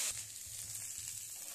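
Ingredients for kadhi fry in a pan, giving a soft, steady sizzling hiss that stays faint and even for a brief moment.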